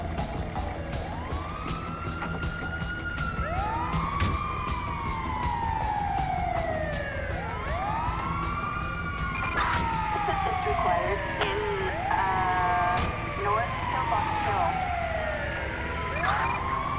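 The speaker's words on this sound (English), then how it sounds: "Oh, it's the ambulance." An ambulance siren in the video game GTA 5 wails in loud rising and falling sweeps, repeating over and over amid ongoing traffic noise.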